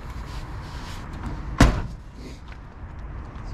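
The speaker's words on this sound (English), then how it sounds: "So your door is closed solid and everything like that." The door of a 1970 Ford Mustang Mach 1 shuts with a single solid thunk in the middle, close and distinct over a low ambient background, followed by quiet.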